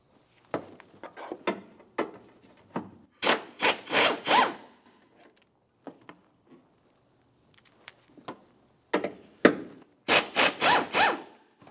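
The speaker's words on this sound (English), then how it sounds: "To remove the battery tray, we're going to start with these two 10 millimeter headed bolts." Ratchet work on the 10 mm bolts holding the battery tray of a 2000-2006 Chevrolet Tahoe, coming in short raspy bursts of clicking with quiet gaps between, close and alone.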